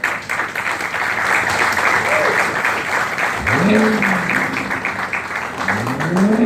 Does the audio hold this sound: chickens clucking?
no